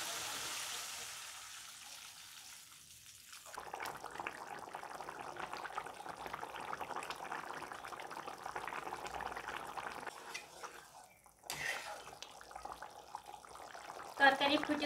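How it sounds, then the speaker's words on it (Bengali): Water poured into a pan of ridge gourd and pangas fish curry, a steady liquid rush and bubbling in the middle of the clip, fairly soft, with kitchen clatter around it. "এবার ঝোলের জন্য জল দিয়ে দেব।"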